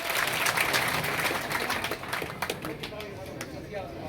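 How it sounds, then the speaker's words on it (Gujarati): Clapping from a village gathering at a public event in Bhordu, strongest at first and then thinning to scattered claps, with voices faintly underneath. "તાળીઓ પાડો, તાળીઓ."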